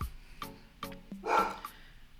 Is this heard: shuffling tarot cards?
no